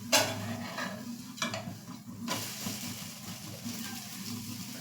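A besan and bajra chilla being flipped in a hot pan, with soft scraping and clinking of a spatula against the pan over a steady low sizzle, close and moderately loud.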